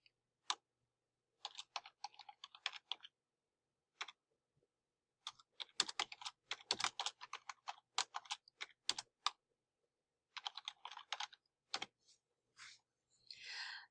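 Bursts of quick keyboard typing, clicking keys in irregular runs separated by short pauses, close by and fairly quiet, with no talking.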